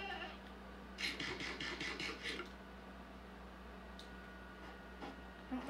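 A goat bleats in a video game in a short run of quick, rapid bleats, then a faint click and a soft, brief call follow over a quiet hum.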